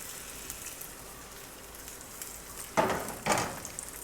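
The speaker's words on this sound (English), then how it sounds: "Just bust the yolk and let it cook, however you want it." An egg with a broken yolk frying in a pan gives a faint, steady sizzle, then two louder crackling bursts near the end.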